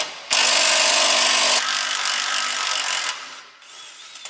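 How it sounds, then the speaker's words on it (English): A power tool whirs loudly and steadily while working on a turbocharged LS-powered Miata kart, with a shift in pitch partway through before winding down to brief rattles. "Have I said recently how amazing power tools are?"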